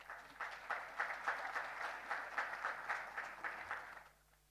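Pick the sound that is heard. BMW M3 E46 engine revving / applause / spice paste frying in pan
applause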